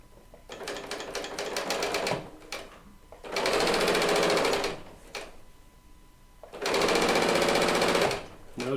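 A serger sewing machine chain pieces quilt pieces in three loud, fast-stitching bursts of a few seconds each, separated by short pauses and light handling clicks.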